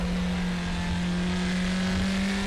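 An NSU Prinz TTS in the RaceRoom racing game at Zandvoort drones at a steady, labored pitch as its engine bogs down, a constant close buzzing hum with no voices.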